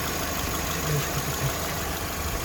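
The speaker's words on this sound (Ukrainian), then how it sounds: "Мотор працює адекватно." A car engine idles steadily on a workshop lift, a loud, even mid-pitched drone with a faint knocking pulse running throughout, no voices over it.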